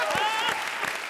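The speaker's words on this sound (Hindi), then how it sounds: "जोरदार तालियां।" Studio audience applause on a comedy show, a steady wash of clapping with voices chattering faintly over it.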